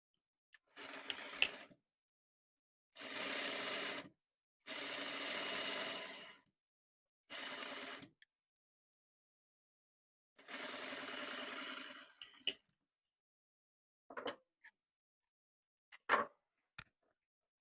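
A sewing machine runs in several separate bursts of about one to two seconds each while stitching a satin shoulder seam for a boubou garment, with short pauses between runs and a few faint clicks near the end; no one speaks.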